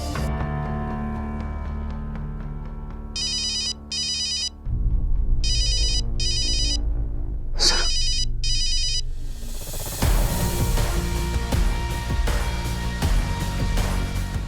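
A mobile phone rings after a number is dialed, with repeated bursts of bright electronic trilling over a steady dramatic music bed in a crime drama.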